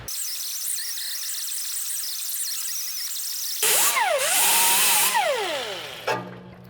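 Angle grinder working the original bump on the inner frame rail of a 1967 Barracuda: a loud metallic whine that rises and falls in pitch as the disc bites, after a steady high hiss, ending abruptly.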